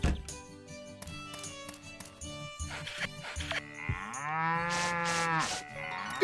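A cow moos in the farming video game Story of Seasons: Pioneers of Olive Town, one long low drawn-out call near the end, following game music and soft tapping sounds.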